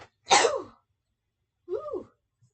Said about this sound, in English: I'm gonna sneeze first.